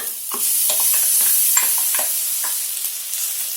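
Ground spice paste tipped into a pan of fried drumsticks for a sambar, sparking a bright close sizzle with quick scraping spatula strokes throughout the short burst.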